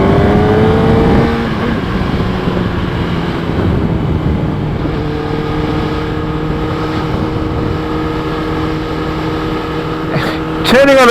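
A 2012 Kawasaki Ninja ZX10R with 57,000 km on it accelerating onto a freeway, engine droning loud and steady with rising and shifting pitch, heavy wind rush throughout.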